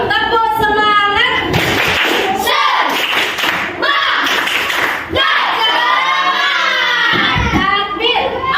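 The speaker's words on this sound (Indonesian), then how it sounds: "Yuk, tepuk semangat." Schoolchildren in a classroom do a rhythmic spirit clap, chanting loudly in unison while sharp hand claps and thumps land in a patterned beat.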